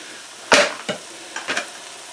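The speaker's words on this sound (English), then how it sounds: "So, we're going to add our diced Italian style tomatoes." Diced Italian style tomatoes drop into a hot pan of softening onions for pork chops, giving a loud burst of sizzle followed by two or three shorter hissing spurts as they settle and are stirred.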